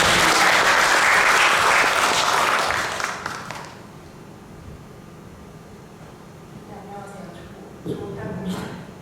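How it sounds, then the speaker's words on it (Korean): Dense congregational applause fills a church during a Sunday worship service in London, loud and steady at first, then fading out after a few seconds into quiet room tone, with a brief voice near the end. "자, 다시 한 번 더 박수로 한번"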